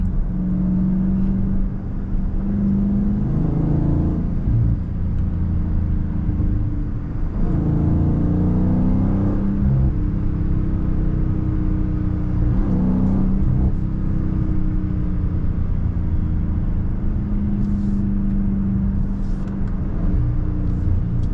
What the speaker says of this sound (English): I love that settle shift the fourth to third gear. That shit sounds so satisfying